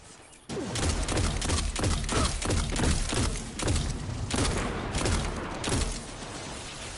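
Rapid gunfire in a PS4 shooter, dense bursts of shots and thuds that start abruptly and run almost continuously and loudly.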